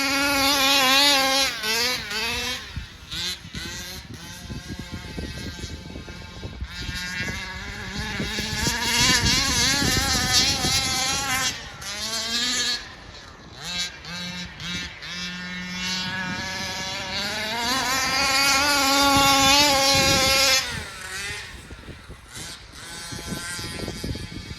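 A Baja 36 boat on its first run with a new, upgraded-gear engine, running hot. It roars loud and steady, the pitch climbing and dipping with throttle changes for the whole stretch, with no voices over it.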